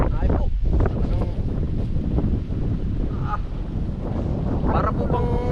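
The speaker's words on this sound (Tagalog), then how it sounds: "ang lakas ng hangin na naman" Loud, continuous wind buffeting the microphone with a roaring rumble, a voice faintly audible beneath it.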